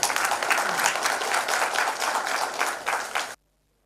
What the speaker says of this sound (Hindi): दोस्तों जोरदार तालियों से स्वागत किया जाए।